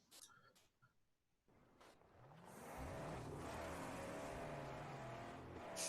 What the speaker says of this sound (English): It's the sound of an engine tearing over the horizon,